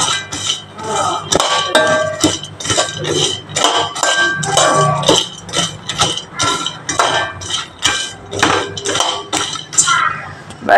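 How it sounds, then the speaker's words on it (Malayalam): Cinnamon is pounded on a grinding stone, sharp repeated knocks in an irregular rhythm, close and loud, with a voice talking over parts of it. "നമ്മൾ മിക്സിയിലല്ല പൊടിക്കുന്നത്, കല്ലിലാണ് പൊടിക്കുക."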